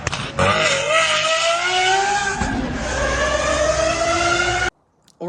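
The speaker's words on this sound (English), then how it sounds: "This is a BMW with a V12, and I want to make it sound like this." BMW V12 engine revving in a played recording, a loud continuous roar with rising pitch as it accelerates, cut off abruptly near the end.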